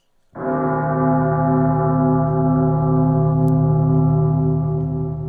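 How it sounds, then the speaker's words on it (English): A single deep bell strikes and then rings on steadily, its low hum and overtones sustaining loudly without fading over several seconds. "A bell tolled in the darkness"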